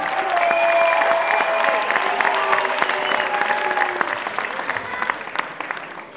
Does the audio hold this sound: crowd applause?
yes